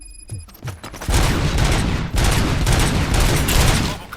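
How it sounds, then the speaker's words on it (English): Gunfire in the RoboCop: Rogue City video game: after a short tonal intro, a dense, loud burst of rapid shots and echoing blasts rolls on continuously for several seconds, with no speech. "Gunshots? What's going on?"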